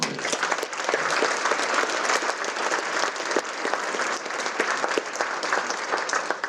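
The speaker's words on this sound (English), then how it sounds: "Give yourself another hand clap of praise." An audience in a room at a community recovery event claps steadily, a dense wash of applause that holds at an even level with no speech on top.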